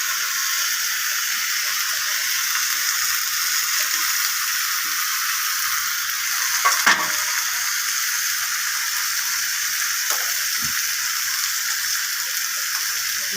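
Banana flower cooked with meat masala sizzles steadily in a pan while being stirred, a continuous frying hiss with a couple of brief scrapes.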